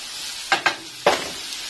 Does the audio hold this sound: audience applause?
no